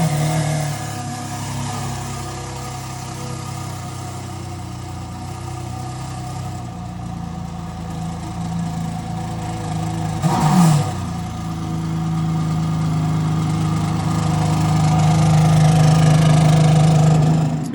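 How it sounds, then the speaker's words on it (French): Ferrari Enzo supercar with four exhaust outlets, two per side, idling steadily then blipping the throttle once briefly around the middle and settling into a louder, higher idle toward the end, recorded close with no talking. "Avec les 4 sorties d'échappement, 2 de chaque côté, qui font un bordel"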